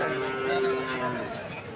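A single cow lets out a loud, sustained moo lasting over a second at a small village cattle market, close by, with faint crowd chatter in the background.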